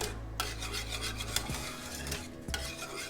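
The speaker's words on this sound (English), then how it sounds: "Now you just want to continue to mix and stir with a lot of love." A spoon stirs thickening vanilla pudding in a pot, giving a steady scraping, rasping rub against the metal with brief clinks, close and continuous throughout.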